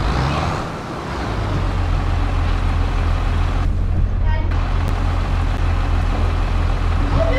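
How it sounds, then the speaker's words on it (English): A tractor engine in Farming Simulator 25 drones steadily and loudly throughout, a constant low hum while the machine struggles to move in the rain, with a brief dip near the start. "Not sure what's going on with this tractor and why we're not moving very well."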